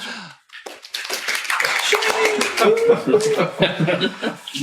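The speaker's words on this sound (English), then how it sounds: "we'll give her a polite golf clap" A few light, scattered claps, a polite golf clap from a small podcast group, sound close by among chuckles and speech.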